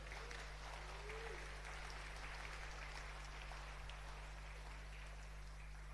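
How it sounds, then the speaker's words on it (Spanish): A church congregation applauding during a sermon, a steady wash of many hands clapping heard faint and distant over a low electrical hum. "Dar un aplauso al Señor."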